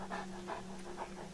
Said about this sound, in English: I hear dogs as well, which makes me a little uncomfortable